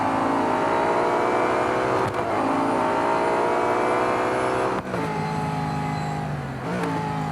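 A racing car engine of a tuned 650-horsepower 2016 Nissan Altima in the game Real Racing 3 revs continuously with a synthetic, game-like tone, dipping briefly a few times before climbing back up. No voices.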